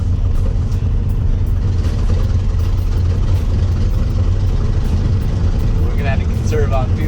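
A 1967 Ford F250 camper special truck engine driving, a loud steady low rumble heard from inside the cab throughout, with a voice talking over it.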